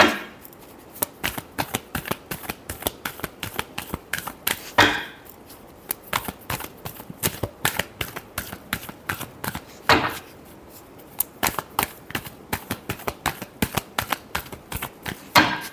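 Tarot cards are shuffled over and over in quick riffling bursts with short gaps, close and crisp, no talking.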